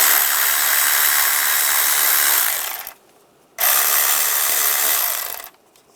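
Fast ratcheting from a socket wrench with a 10mm socket loosening worm-drive hose clamps on the air intake of a 1996-2002 Toyota 4Runner; two long, steady bursts of clicking separated by a short pause, close and loud.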